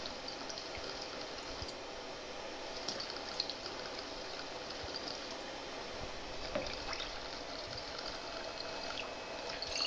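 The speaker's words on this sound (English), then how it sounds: "Now I'm going to do pour size 3 of the Absolute." Absolut vodka runs steadily through a wireless liquor pourer for a double, a soft continuous trickle with a few faint clinks, and no voices.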